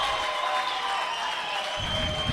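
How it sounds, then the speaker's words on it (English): A crowd of Dragons supporters at a rugby grand final cheers and applauds in a broad, sustained roar, with a commentator talking over it. "Just listen to the crowd, the Dragons."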